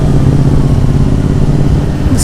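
Triumph Bonneville motorcycle engine idling or ticking over nearby, a steady low throb held throughout with no speech.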